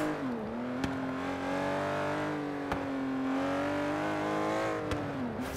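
An Aston Martin Vantage GT12 race car engine in Forza Horizon 3 drones at high, steady revs with slight pitch rises and dips, heard from inside the car, with a few sharp clicks.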